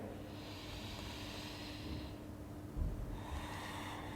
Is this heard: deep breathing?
yes